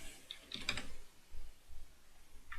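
Short burst of typing on a computer keyboard while working in AutoCAD, a cluster of quick key clicks followed by a few soft, sparse taps, close and quiet with no talk.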